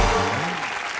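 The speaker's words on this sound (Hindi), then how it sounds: "जोरदार तालियां हो जाए हमारे नल्ले अवार्ड्स के लिए" Studio audience applause at a live Hindi comedy show, a dense loud burst of clapping that swells at the start and carries on steadily, with a host's voice briefly over it.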